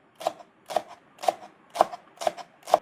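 Green onion is finely chopped on a cutting board with a knife, six crisp, evenly spaced chops landing about every half second, close up against a quiet background.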